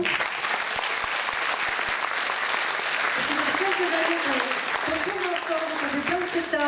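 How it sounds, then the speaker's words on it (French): An audience at a singing contest and prize ceremony in Bain-de-Bretagne applauds a musician, steady loud clapping throughout, with someone talking over it in the second half. "on inaugure avec mon cher et beau Gérald Elliott, que je vous demande d'applaudir"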